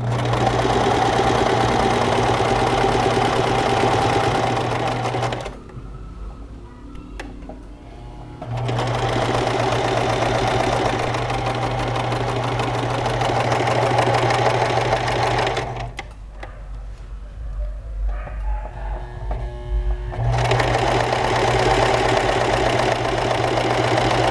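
A sewing machine stitches fabric for a capitonê tire-shaped pillow in long loud runs of rapid mechanical whirring, broken by two short pauses filled with faint handling sounds.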